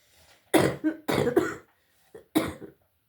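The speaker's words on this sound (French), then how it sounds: "J'ai une toux, elle est insupportable" Several harsh coughs in quick bursts, close to the microphone, with short pauses between them and a final smaller cough.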